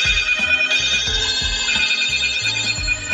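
A mobile phone ringtone for an incoming call plays loudly and close, a bright repeating electronic melody over a steady pulsing beat, with no voices.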